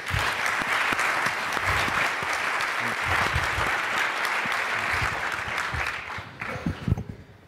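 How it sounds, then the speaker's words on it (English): An audience gives a big round of applause welcoming the guest at the start of an interview event, dense sustained clapping with low thumps, tapering and thinning out near the end. "Could you please give him a big round of applause to start this thing?"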